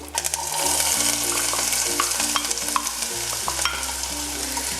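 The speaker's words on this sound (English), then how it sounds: "We're just adding up our diced carrot and shallots and the skin to the oil." Diced carrot, shallots and vegetable skins sauté in hot oil with a bright, dense sizzle, while a utensil stirs and scrapes the pan in irregular strokes, close up and with no voices.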